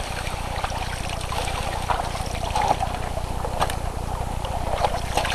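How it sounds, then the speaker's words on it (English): Water splashing and trickling over a gold prospecting sluice box, a steady close wet wash with scattered splashes running throughout, no talking. "splashing some water onto the sluice"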